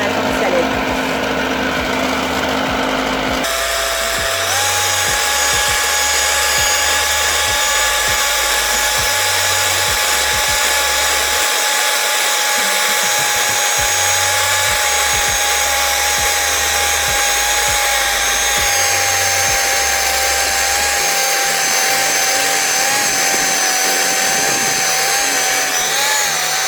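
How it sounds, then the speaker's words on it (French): An electric hand mixer whipping dalgona coffee foam runs as a steady high whine throughout, loud and close, its pitch shifting slightly as the mixture thickens, with a quieter stretch at the start and a voice speaking over it. "Et ensuite avec un batteur électrique, on mélange."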